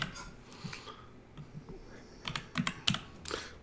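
Quick bursts of keystrokes clatter on a computer keyboard, starting sparse and growing into a faster, louder flurry of clicks near the end, close up with no voices.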